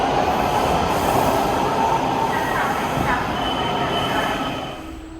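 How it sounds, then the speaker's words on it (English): Washington DC subway train riding along the tracks, a loud, steady close rumble with faint wheel squeal, easing off slightly in the last second. "So that was a very long subway ride to get back to where I live"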